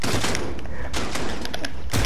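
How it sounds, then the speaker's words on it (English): Shotgun blasts ring out in a video game battle, several sharp booming shots in quick irregular succession, loud and close with no talk over them. "Shotgun."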